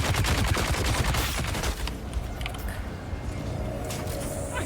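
Dense, rapid bursts of enemy gunner fire in Dune Awakening, loud and crackling at first, then thinning into scattered clanks and mechanical noise.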